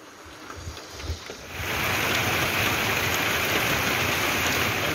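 Rain sweeps in partway through and then keeps up a dense, loud, steady hiss as it pours onto the roof of a parking shelter in Thailand, with nobody talking.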